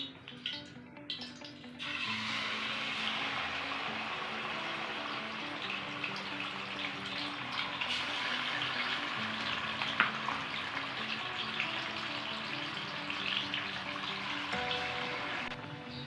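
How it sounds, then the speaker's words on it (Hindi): Marinated chicken for malai boti hits preheated oil in a kadai, and after a brief quieter moment a loud, steady sizzle and crackle takes over and continues evenly, close up. "ऑयल हमारा प्री हीट हो गया। अब हम इसके अंदर चिकन ऐड करेंगे।"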